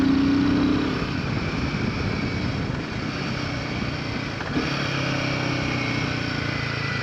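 A 2025 Himalayan 450 motorcycle rides over dips and divots, its engine a steady, continuous drone under wind noise, with a slight shift in tone as the bike crosses a bump.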